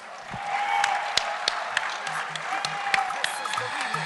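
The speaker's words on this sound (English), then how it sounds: "could we please give them a round of applause?" Scattered applause from the audience at an awards evening, fairly soft and thin, with a few distinct sharp claps standing out over a low crowd murmur for a few seconds.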